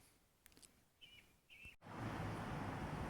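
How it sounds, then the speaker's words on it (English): Faint morning bird chirps and short calls in the first half, then a loud, steady rush of wind or traffic noise swamps everything, on a road near Ballingeary, Ireland. "Can you hear the birds in the background?"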